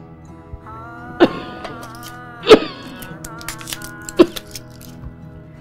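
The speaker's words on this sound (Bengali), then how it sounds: "খাউন গেলে আরো বেশি কাশি উঠে" A person suffering from a cough lets out three separate harsh coughs, spaced a second or more apart, over a quiet background with a faint steady hum.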